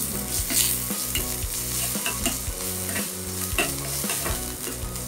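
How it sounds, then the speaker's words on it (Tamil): Curry leaves and coriander sauté in hot oil as a tempering for varagu rice pongal, a continuous sizzle and frying crackle with rhythmic scraping of a stirring spoon against the pan, close and steady. "வதக்கிக்கோங்க நல்லா."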